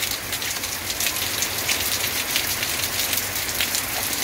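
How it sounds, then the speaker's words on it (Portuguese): Steady rain falls in Joaquim Gomes, Alagoas, during cloudy northeastern Brazilian weather, a dense, even hiss of drops on surfaces that holds constant throughout with no voices. "a chuva já começa a cair, viu? Aqui nas Alagoas."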